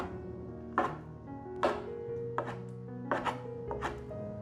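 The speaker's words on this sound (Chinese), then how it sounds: "切碎。" Knife chopping sliced five-spice dried tofu on a cutting board, five or six distinct close thuds at an uneven, unhurried pace, with no voices.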